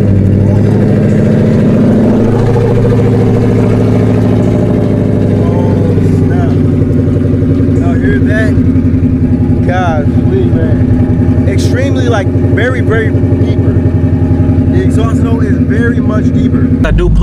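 A car fitted with Kooks 1-7/8 inch long tube headers, run after sitting for a couple of days, idles with a loud, deep, steady exhaust drone that rumbles throughout, with brief higher chirps appearing later.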